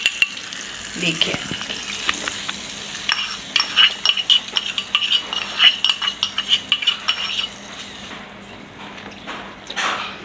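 Hot tempering of chilli and curry leaves sizzles as it is poured into aamrata and stirred in a pan, with steady frying crackle, spoon scrapes and a brief spoken word.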